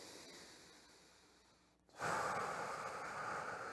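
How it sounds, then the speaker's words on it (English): Steady breathing in and out through the nose during a guided relaxation exercise, a soft airy hiss at first, then a louder, sustained rushing exhale filling the second half, close and alone without talk. "So you inhale through your feet, and exhale"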